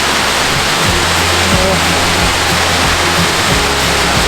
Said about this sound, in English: Here's a little peek at our waterfall.